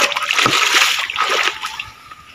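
Water splashes and sloshes as muddy feet are washed in a cold mountain stream on a rural trail, with close, irregular splashes in quick succession that fade toward the end.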